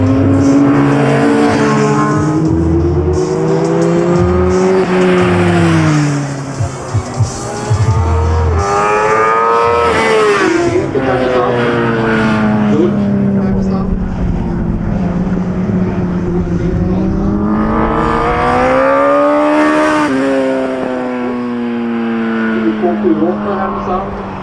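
Motorbikes circle a race track, their loud engine whines rising and falling in pitch as they rev and pass in repeated waves, close and sustained.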